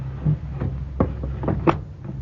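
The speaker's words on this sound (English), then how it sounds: "Go bolt the door." A door is bolted shut in a radio drama, giving a few hollow wooden clunks and a sharp rattling knock of the bolt sliding home, close and fairly loud, with no voices.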